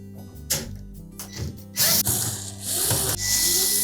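A power driver whirs and ratchets in short bursts, backing screws out of a Samsung dryer's metal support bracket during a drum assembly replacement.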